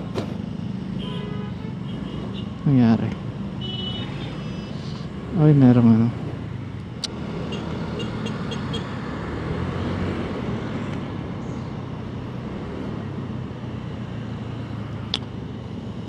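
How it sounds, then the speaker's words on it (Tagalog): Road traffic noise on the New Clark City Access Road toward Angeles City: a continuous low rumble of passing vehicles with a couple of loud honks near the start, while someone talks briefly. "Ito na yung traffic."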